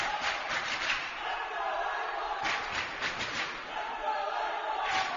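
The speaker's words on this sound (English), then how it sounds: "we hear the cheers of "Let's go Avon" from the home crowd" A home crowd at a wrestling match chants and cheers in repeated swelling bursts, a steady broadband roar rising and falling at a distance.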